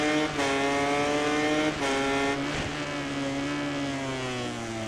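A racing motorcycle engine in MotoGP 19 at the Sachsenring, a rival rider closing in from behind: a loud, steady high-revving whine with stacked harmonic tones, brief gear-shift dips and rising pitch, heard alone.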